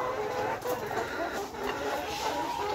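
Layer hens on a poultry farm, a dense chorus of soft clucks and murmurs from many birds indoors, steady and moderately quiet with no talk.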